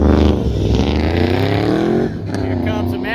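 A 1961 Ford F100 pickup runs hard at a Pro Touring truck autocross, its engine roaring loud and close with a steady droning note that shifts pitch partway through, while an announcer talks over it.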